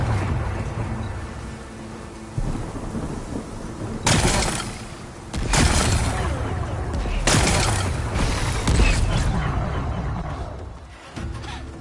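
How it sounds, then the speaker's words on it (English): Rocks blasted apart in Horizon Forbidden West: several heavy booming explosions in quick succession, each a broad crashing burst with rumbling decay, loud over a dense background of game sound. "Gotta blast away some rocks, so I can expose the power cell."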